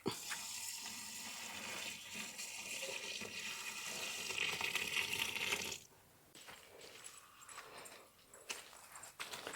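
Small onion juice is poured into a mixture in a continuous, soft liquid trickle nearby that stops abruptly partway through, followed by faint rustling.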